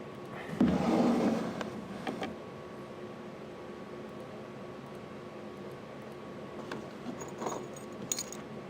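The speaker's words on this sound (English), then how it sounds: "All right, I gotta put those keys back." A bunch of keys jangling close by for a couple of seconds, followed by quiet room hum and a few faint metallic clinks later on.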